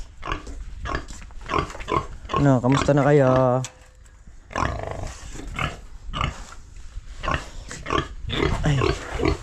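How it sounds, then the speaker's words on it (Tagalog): Pigs on a farm grunt and snort in short bursts close by, with one longer squealing call, while a person talks over them. "Silipin lang natin yung mga baboy."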